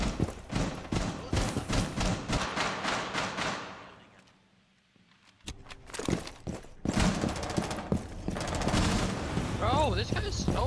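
Rapid bursts of automatic gunfire in Rainbow Six Siege suppress a position, loud and dense, with a brief lull in the middle before sustained firing resumes beneath game noise.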